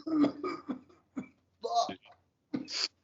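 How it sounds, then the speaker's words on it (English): Several short throaty coughs and throat-clearing bursts separated by pauses, close and fairly quiet, mixed with a few speech-like sounds. "I'm just coughing."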